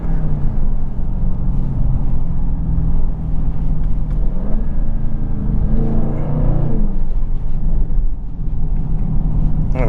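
A Dodge Charger Scat Pack muscle car drives and accelerates, its V8 engine droning loudly from inside the cabin with a rising rev swell midway, steady road rumble underneath.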